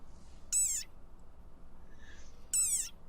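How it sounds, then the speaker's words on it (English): A desert rain frog gives two short, shrill squeaks about two seconds apart, each a high, quavering cry that stands clear above a faint, steady background hiss. "Rain frog. Squeaking viral sensation."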